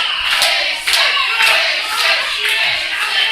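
Wrestling event crowd cheering and yelling for Mason Marx in his match against Chris Sterling, a dense, continuous roar of many voices with scattered shouts and claps that swells in waves.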